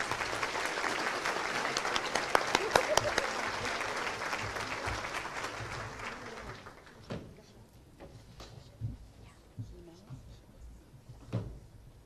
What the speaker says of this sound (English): I am sure that everyone here would like to join me in applauding this outstanding program.